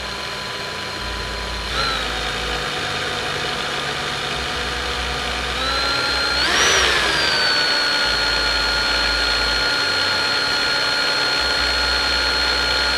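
A power drill bores a pilot hole into the lock of a Nintendo Vs. Dual System arcade cabinet, running as a steady whining hum throughout that rises in pitch and loudness midway and then holds, with no talk.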